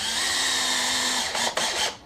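A power drill drives screws into lumber for DIY outrigger landing gear pads, a loud close whir that runs steadily and then breaks into a few short bursts as the screw seats.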